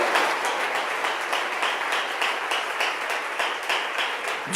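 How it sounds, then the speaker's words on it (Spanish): A church congregation claps hands loudly together as an offering, a dense, sustained roar of many palms with rhythmic pulses, filling the whole stretch without speech. "Si le va a dar su ofrenda con sus palmas, désela fuerte para que se oiga hasta allá arriba."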